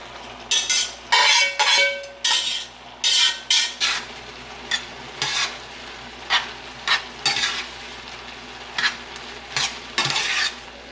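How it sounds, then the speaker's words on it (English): Linguine being tossed and stirred in a pan to coat the noodles, giving a run of repeated scraping, clattering strokes over a faint sizzle, close and fairly loud with no talking. "I'm gonna kind of toss it in there, coat the noodles."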